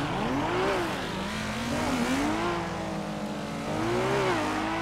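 A Toyota AE86 engine in GTA 5 hums steadily at moderate volume, its pitch rising and falling as the car revs and shifts, with no talk over it.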